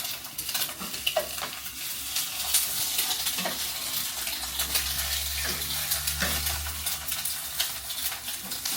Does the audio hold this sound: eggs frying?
yes